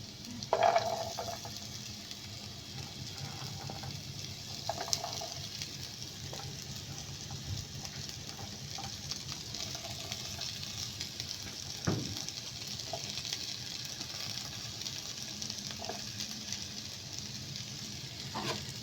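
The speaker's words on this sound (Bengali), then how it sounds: "এখন এই দুটোকে আমি একসঙ্গে ভেজে নিব" Diced carrots and beans frying in a pan over medium heat for vegetable fried rice, giving a steady close sizzle with occasional stirring scrapes and clinks throughout, no voices.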